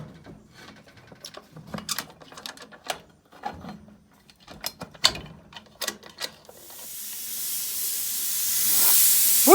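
Pressure canner filled with jars of mushrooms starts to vent steam, a broadening loud hiss that swells over the last few seconds after scattered clinks and knocks.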